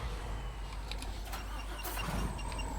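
Farm vehicle engine in Farming Simulator 25 turns over and settles into a steady low rumble, constant and fairly close throughout.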